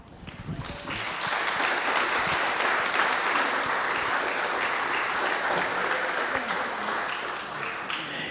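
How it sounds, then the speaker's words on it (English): An audience at a talk on UFO investigators gives Peter Robbins a big round of applause, which swells quickly after a brief lull and holds as a loud, dense, sustained roar of clapping. "maybe we can give him a big round of applause this year"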